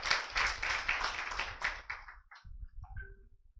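Applause in a class or coaching session, a burst of many hands clapping close and lively, thinning out into a few scattered claps and faint voices as it dies away.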